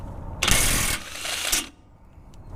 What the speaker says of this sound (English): So now we're going to get this passenger side bolt out.